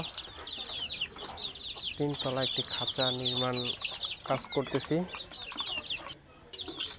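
Young chicks moving about inside a brooding cage on a small poultry farm, with a dense stream of high, rapid peeping and chirping while someone speaks over them.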